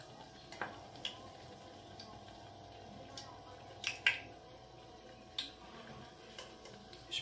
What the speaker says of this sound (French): On les retourne et on les laisse cuire encore.